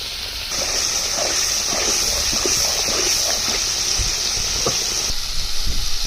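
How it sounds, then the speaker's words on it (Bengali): Water splashes into hot oil in a pan with onion paste, turmeric, chili powder and salt, setting off a loud, steady steam hiss and sizzle that holds for several seconds with small crackles underneath. "মশলা কষানোর জন্য একটু পানি।"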